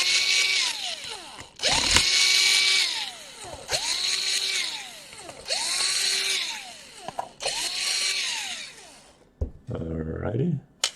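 Power screwdriver whirring in repeated short bursts while unscrewing screws from an HP EliteBook 850 laptop during a charge port repair, each burst rising and falling in pitch, close and loud, ending with brief clicks and handling noise.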